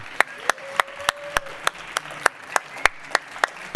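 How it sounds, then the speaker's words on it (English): Steady rhythmic clapping from a small audience, a dozen or so evenly spaced sharp claps over a faint hum, with a thin held tone drifting through the first half. "I think we should continue with the applause"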